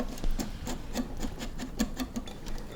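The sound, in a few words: whisking granola mixture with brown sugar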